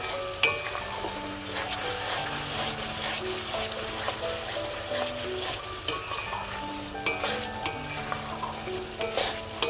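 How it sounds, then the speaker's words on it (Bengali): Masala spice paste with a little added water stirred and fried in a pan for Bengali chicken curry: a steady, close sizzle with continuous scraping and stirring, and occasional light clinks of utensil on pot. "জল দিয়ে মশলাটা আবার ভালোভাবে কষিয়ে নেব।"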